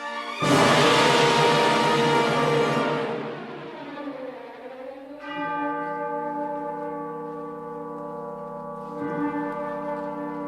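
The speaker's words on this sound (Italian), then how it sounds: "Nella versione di Korsakov, alla fine, una campana di una chiesa suona in lontananza." A church bell tolls at the close of Rimsky-Korsakov's version of Night on Bald Mountain. A loud opening stroke is followed by two softer strikes, each leaving a long, ringing decay that sounds set at a distance.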